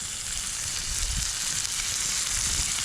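Steak sizzling on campfire coals, a steady dense crackling hiss that continues throughout, close and fairly loud, with faint low thumps underneath.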